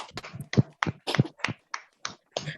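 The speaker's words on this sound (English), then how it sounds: "I would like to give all of us a standing ovation by standing up and clapping" A small group of seniors claps for a speaker in a loose, uneven rhythm, about a dozen separate sharp hand claps spread over a couple of seconds, close and moderately loud rather than a sustained ovation.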